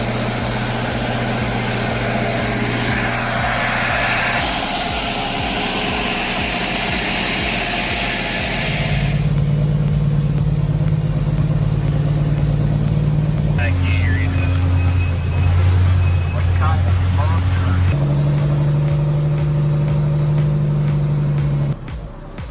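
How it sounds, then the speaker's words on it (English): A heavily loaded logging truck labours up a steep road, its engine droning loudly and straining, shifting pitch several times as the load drags on it, with traffic-like rumble underneath. "That engine is really screaming today."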